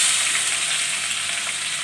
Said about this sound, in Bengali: পেঁয়াজটা ভালো করে লাল করে ভেজে নিতে হবে ততক্ষণ